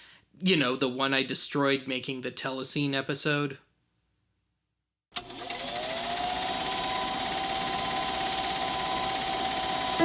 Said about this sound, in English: that is the sound of my old Keystone 8mm projector on this one.